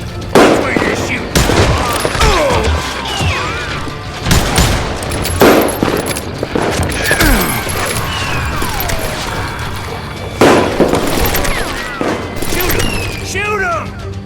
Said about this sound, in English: That's where you're shooting.